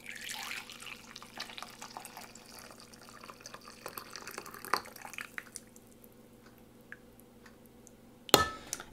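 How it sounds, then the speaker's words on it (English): Hot coffee is poured into a container over a tablespoon of butter, making a steady close trickle that thins out and fades before a single sharp clunk near the end. "I put a tablespoon of butter in the bottom of this container, and then I pour my coffee in."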